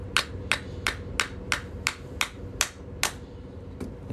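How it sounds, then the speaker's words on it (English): A plastic hammer knocks a punch loose from a coin during coin ring making, about a dozen sharp, evenly spaced taps, close and fairly quiet, with a steady background hum. "So I can get this plastic hammer and just kind of knock that off."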